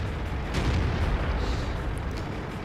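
A tank cannon fires in World of Tanks, a Tier 10 Chinese 121 medium tank taking a shot at an enemy tank; a loud, dense boom and rumble fills the whole moment with no speech.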